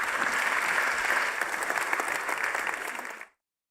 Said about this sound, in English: give these guys a great big round of applause